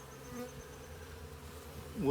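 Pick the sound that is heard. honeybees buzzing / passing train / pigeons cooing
honeybees buzzing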